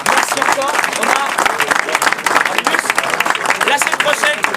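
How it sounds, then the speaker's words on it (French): Audience applause for the coach of URB at a post-match gathering, dense steady clapping close and loud throughout, with voices and cheers mixed in. "Je vous demande d'applaudir le coach de l'URB"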